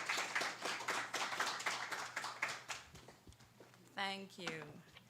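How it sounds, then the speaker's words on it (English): An audience at an authors' forum claps for a presenter, a burst of many hands applauding steadily for about three seconds before fading as a voice begins speaking. "Let us give her a round of applause."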